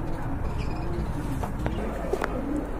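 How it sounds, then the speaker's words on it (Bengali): Pigeons coo softly in a busy pigeon market, low murmuring calls half buried in a steady background din, with a few faint chirps mixed in and no clear speech. "তো আরেক জোড়া কবুতর দেখতে পাচ্ছেন"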